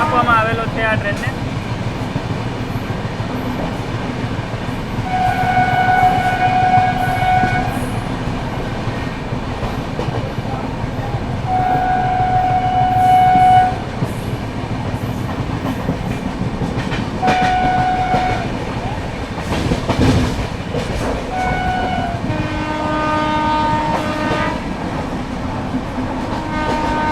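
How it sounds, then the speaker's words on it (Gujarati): Passenger express train from Rajkot to Porbandar via Jamnagar running through Lalpur railway station without stopping, heard from on board: steady rumble and wheel clatter throughout, with repeated horn blasts sounding several times, loud and near. "અત્યારે આપણે લાલપુર રેલવે સ્ટેશનને સ્કીપ કરી રહ્યા છીએ"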